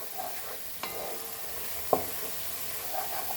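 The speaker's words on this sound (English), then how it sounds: "So the onions are fried nicely." Onions frying in butter with ginger garlic paste and bay leaves for a dal makhani tadka, a soft steady sizzle with a few brief stirring clinks, close and quiet, no voices.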